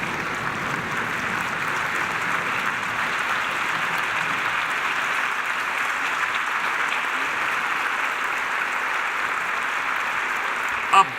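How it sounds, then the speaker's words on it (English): A banquet audience at a closing reception and dinner breaks into sustained applause, a dense, even roar of clapping lasting about eleven seconds from a sizable crowd. "A big applause to former Secretary of Commerce, the Honorable Carlos Gutierrez."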